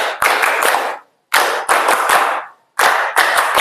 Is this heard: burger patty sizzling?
no